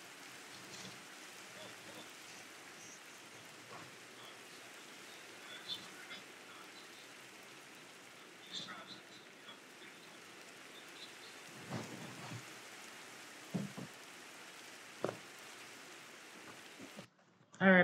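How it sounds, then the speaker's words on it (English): Steady rain hisses throughout in Minecraft, broken by several low thunder rumbles and cracks that swell and fade, ending in a sudden loud burst. "Rain, rain, rain."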